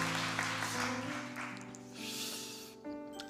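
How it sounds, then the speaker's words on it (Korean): Applause from a church congregation during a Sunday worship service, welcoming a clarinet player, a steady wash of clapping over sustained instrumental tones that fades near the end. "박수"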